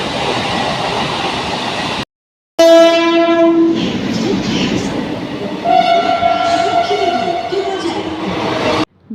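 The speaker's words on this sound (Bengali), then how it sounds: "দুদিককে থ্রু ট্রেন দেখতে দেখতে একসময় আমার ট্রেনটাও এসে গেল" A through train rushes past a railway platform. It gives loud, prolonged horn blasts over a heavy close rumble and the rattle of wagons.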